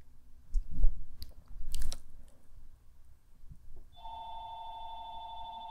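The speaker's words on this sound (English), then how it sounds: "That's a phone ringing." A phone rings with a steady electronic tone after a few seconds of quiet chewing and handling noises close by.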